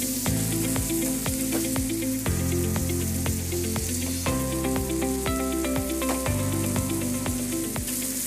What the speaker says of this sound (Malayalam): ഒരല്പം എണ്ണ ഈ ചെമ്മീൻ്റെ മുകളിലേക്ക് ഒഴിച്ചു കൊടുക്കുകയാണ്.